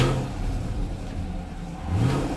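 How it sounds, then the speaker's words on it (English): A 2017 Chevrolet Camaro 1SS V8 engine revving up close, a steady deep rumble that dips and then swells as the throttle opens near the end, with no talking. "I want you to hear what this engine sounds like, and it is just phenomenal."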